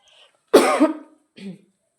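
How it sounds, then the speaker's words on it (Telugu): Two close, harsh coughs from a person with a week-long cold: a loud one followed by a shorter, quieter one after a brief pause. "నాకు వన్ వీక్ నుంచి దగ్గు జలుబు ఉంది అందుకే దగ్గు వచ్చేసింది"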